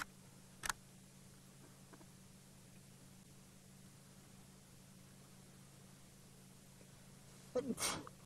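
A single sneeze near the end of a quiet recording at Buffleshoek Dam at sunrise, sharp and close, after a brief click earlier, over a steady low hum and faint hiss.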